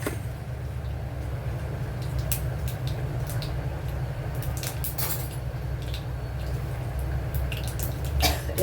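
Mustard seeds pop in hot oil while being tempered for radish sambar, scattered sharp crackles and clicks over a low, steady sizzle, close and fairly soft.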